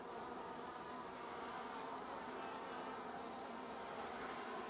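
A honey bee swarm buzzes as a dense, steady drone at a new hive, close and continuous, with no voices.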